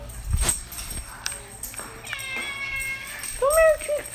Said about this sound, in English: Come here, my kitty.